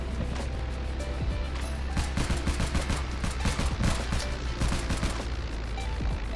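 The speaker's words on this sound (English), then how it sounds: "So shoot maybe like 3 mags, and it will get rid of the shield." Rapid bursts of automatic gunfire in Roblox War Tycoon as players shoot down a spawn shield, dense overlapping volleys of crackling shots continuing throughout without pause.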